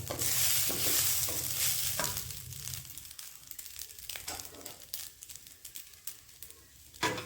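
Basmati rice stirred into hot tempering spices gives a loud, close scratchy sizzle at first that thins into scattered scraping and ticking of the spoon against the pan.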